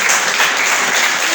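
A church congregation bursts into applause during a sermon, a brief, dense burst of clapping that fills the room steadily and loudly from start to end.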